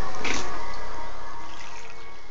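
Water sloshes in a baby's bath, with one quick splash near the start followed by a steady, fading watery hiss.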